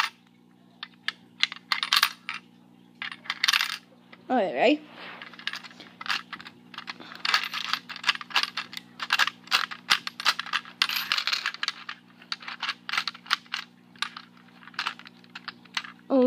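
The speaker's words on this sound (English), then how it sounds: "Let's put in a couple coins." Coins clink and rattle in a Lego coin pusher machine, many small metallic taps and tumbles in an irregular stream, close up, with a couple of brief spoken words.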